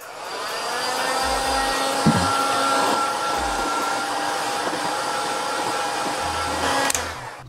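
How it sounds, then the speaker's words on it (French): A heat gun blows and whirs steadily for several seconds while warming an engine crankcase half before the halves are separated, a constant close airy drone with a faint tonal whine and a couple of small knocks. "Moi, je préfère le décapeur thermique pour cette phase."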